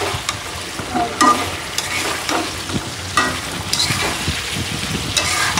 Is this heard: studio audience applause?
no